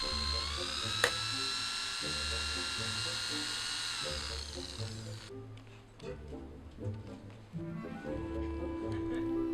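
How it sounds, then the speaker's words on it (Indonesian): A power drill whines and changes pitch as it bores into the centre of a wooden piece to hold bamboo, buzzing steadily with brief pauses between runs. "bor bagian tengah kayu untuk dijadikan tempat bambu"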